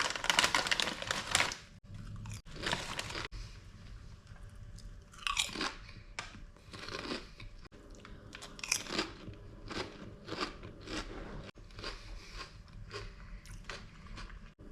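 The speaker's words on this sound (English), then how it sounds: "I had ordered these rice chips that I'm gonna open and have right now." Someone crunches and chews salty, spicy rice chips right up close. Sharp, brittle bites come at irregular intervals, each followed by softer chewing crackles in a quiet room.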